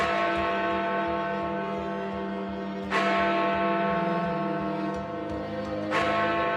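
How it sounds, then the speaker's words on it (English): Big Ben, the large bell in Elizabeth Tower, struck by a hammer twice, each deep clang followed by a long ringing hum that sustains between strikes. "this time we're only ringing 1 bell"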